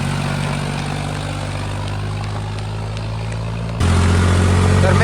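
A tractor engine drones loud and steady as it labours up a climb, its low throb rising to a heavier, louder roar partway through.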